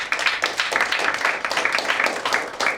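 Indoor audience at a recruitment training session clapping in a brisk, dense burst, close and lively, with the rhythm of individual claps audible throughout.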